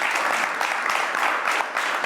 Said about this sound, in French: J'aimerais qu'on applaudisse pour ça.